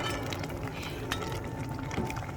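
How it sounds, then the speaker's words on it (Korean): Braised monkfish bubbling in a pot as bean sprouts are added, a soft steady liquid simmer with faint wet rustling, fairly quiet and close, no speech. "이렇게 됐을 때 콩나물을 여기다가 이렇게 넣어서"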